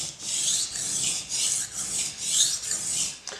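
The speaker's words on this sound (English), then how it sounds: "sharpen your blade, and with it being a diamond stone and on stainless steel" A blade is sharpened on a diamond stone in rhythmic strokes, each producing a close, harsh rasping scrape, repeated about six times in quick succession with brief pauses between.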